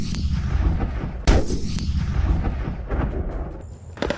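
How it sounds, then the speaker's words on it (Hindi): Heavy Indian Army artillery cannon blasts boom out amid a low rumbling background, one sharp loud shot standing out, followed by more distant thuds. "तोपों की दिल दहलाने वाली आवाज से दुश्मन का कलेजा दहल रहा है।"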